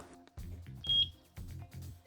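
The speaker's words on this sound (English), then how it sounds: "Sync button until you hear the beep." A eufyCam S3 Pro home base gives a single short, clear sync beep indoors, set above a low background hum and handling sounds.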